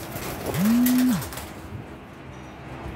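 A single low, rounded coo from a male mountain pigeon swells and fades over about half a second, followed by quiet outdoor ambience.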